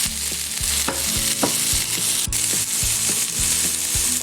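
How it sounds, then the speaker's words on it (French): Steady sizzling and frying of salmon in a covered pan, with occasional clinks and scrapes of a utensil over the continuous hiss. "J'ajoute le saumon. Je vais couvrir ma casserole et laisser cuire pendant 5 minutes."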